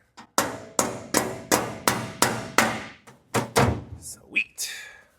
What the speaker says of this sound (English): Just gonna use this vice grip and try to hammer this rearward a little bit.